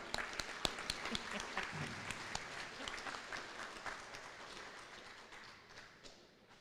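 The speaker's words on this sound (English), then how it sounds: "Let's lead him in with a clap." A crowd claps to welcome a speaker at a police chief swearing-in ceremony, a scattered indoor round of applause with sharp individual claps early that thins and fades toward the end.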